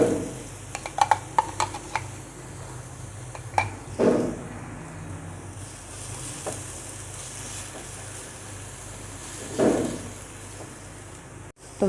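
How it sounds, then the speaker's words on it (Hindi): Chopped onion and green chillies frying in a pan for Turkish chicken pide, a steady quiet sizzle with a cluster of early clicks and occasional louder scrapes of stirring, no talking. "ये इसके अंदर ऐड कर देते हैं और इसका कलर चेंज होने तक इसको फ्राई कर लेते हैं।"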